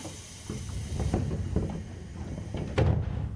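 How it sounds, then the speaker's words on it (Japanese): Train doors slide shut on platform 8 in the PS3 railway game Railfan Japan, with a few soft knocks and rumbles and a firmer thump near the end over a steady hum. "8番線ドアが閉まります。"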